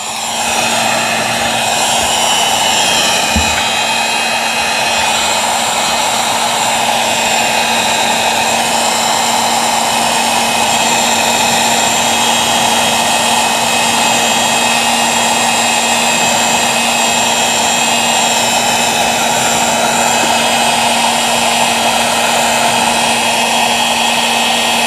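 A heat gun runs steadily on a sun-faded plastic wiper cowl from a 2015 Ford F150, giving a constant loud fan drone with a steady humming tone throughout, close and unbroken, with a brief knock early on.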